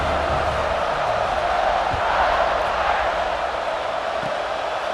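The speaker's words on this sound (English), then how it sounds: "this crowd now ready to get behind them" Stadium crowd noise in EA Sports College Football 26, a broad, steady roar of cheering fans at kickoff that holds at an even level throughout with no clear breaks.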